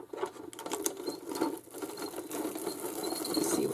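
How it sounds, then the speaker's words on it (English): A Xyron sticker-making machine feeds a piece of lace through with a close, crackly ratcheting patter that rises gradually over a few seconds, with no talking. "let's run this piece of lace through the Xyron machine"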